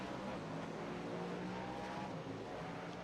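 Engines of race cars in a sim racing game after a Daytona 24-hour race run as a steady, faint, continuous drone with no talk over it.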